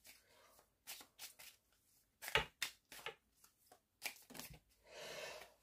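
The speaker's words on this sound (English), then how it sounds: "Let's shuffle the cards." A deck of tarot cards being shuffled close up and quietly, in a series of short papery riffles and flicks with brief pauses between them.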